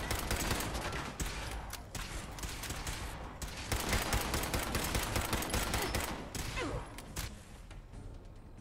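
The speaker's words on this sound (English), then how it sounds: "Please stop shooting at me." Dense game gunfire from Fallout 4 fills the scene, rapid overlapping shots and automatic bursts firing continuously and loudly throughout with no pause.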